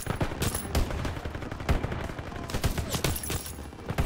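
Shotgun blasts amid a busy battle in Call of Duty WW2, dense and loud, with repeated heavy shots and overlapping gunfire across the whole stretch.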